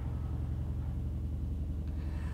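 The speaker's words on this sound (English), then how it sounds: "A speeding car broke me out of my daydream." A car speeding past in the video game Rainswept, heard as a low, steady engine rumble at moderate distance, quiet and unbroken, with no voices.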